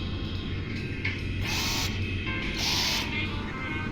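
Bolt driver tool in a VR game sounding two short bursts of bright hissing whir, each about half a second, over a quiet mechanical ambient hum.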